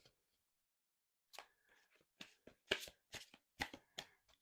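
A deck of gilded oracle cards is shuffled by hand in soft papery bursts. There are several riffles and overhand passes with short pauses between them, close and quiet, with no voices.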